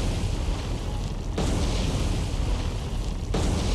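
Torpedo explosions strike a warship in the naval combat game War on the Sea, a loud, continuous rumbling roar of blasts with two sharp surges, filling the whole moment with no voices.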